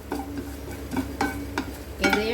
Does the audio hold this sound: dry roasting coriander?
yes